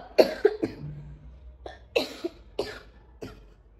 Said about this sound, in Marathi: खोकला राहतच नाहीये.